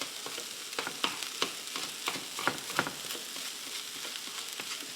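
Steady sizzling and crackling from egg and rice frying in a hot pan, with periodic scraping stirs punctuating the hiss; no talking.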